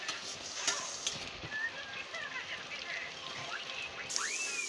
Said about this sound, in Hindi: उधर प्याज भुना जा रहा है